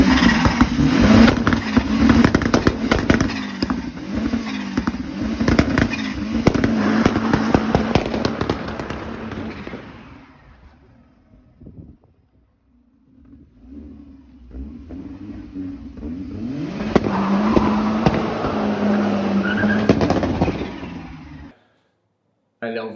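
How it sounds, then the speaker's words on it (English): Car doing a burnout with the engine revving hard, loud popping exhaust crackle and roaring for about ten seconds, a lull, then another loud roaring burst before an abrupt cut; voices shout faintly underneath. "A little video of me doing a burnout"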